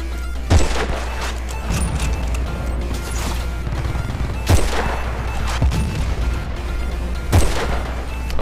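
Battlefield: Bad Company 2 multiplayer gunfire: sustained bursts of shots with sharp, loud cracks at intervals, over a dense, continuous din of battle.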